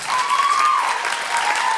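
Audience applause for actor Richard Speight Jr. at a convention stage event, a steady dense clapping from a large crowd filling the whole stretch with no pauses, with a faint whistle riding over the top.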